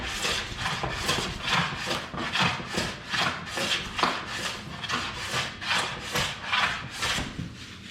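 A hand plane takes repeated full-length passes along a wooden board, giving a steady series of about a dozen rhythmic shaving swishes, each rising and fading, close and clear.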